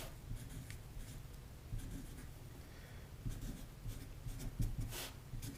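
Pen or pencil scratches on paper, jotting short notes while fireworks are laid out, faint and close, with soft irregular strokes and taps over a quiet room.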